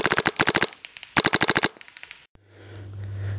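A Vanguard Demon semi-automatic fires outdoors at a tree in two rapid bursts of sharp, closely spaced shots, followed by a few scattered shots and then a low, steady hum.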